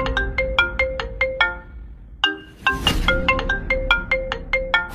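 Mobile phone ringtone in a Bangla cartoon comedy, a bright melodic jingle repeating in short phrases, loud and clear, broken by a brief pause before it resumes.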